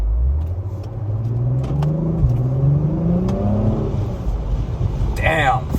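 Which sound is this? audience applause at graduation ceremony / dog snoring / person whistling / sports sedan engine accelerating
sports sedan engine accelerating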